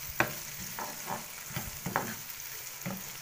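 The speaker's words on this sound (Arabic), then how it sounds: "هنسيبها بقى تاخد تحميره بقى، تبقى حمرا كده وناشفه وحلوه" Onions fry in ghee with a soft, steady sizzle close by, broken by several spoon clinks and stirring scrapes at irregular intervals, with no talking.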